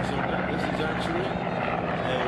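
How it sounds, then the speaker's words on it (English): A full-scale replica of the Supermarine Spitfire drones with a steady propeller-engine roar close by, while someone talks over the constant engine sound. "a full-scale replica of the Spitfire built by Bob DeFord in a superb job."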